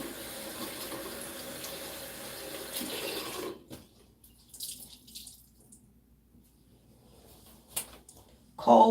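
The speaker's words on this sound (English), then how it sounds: "Cold water. Only wet the part that's going to be on your head." Cold water runs steadily from a tap onto a do-rag for a few seconds, then stops, followed by soft wet handling noises and a few faint splashes.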